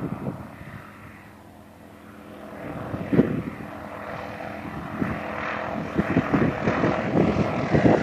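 Propeller airplane landing on runway 28 at Steward Airpark, engine drone rising and sputtering irregularly as it comes in, growing louder and nearer toward the end, no talking.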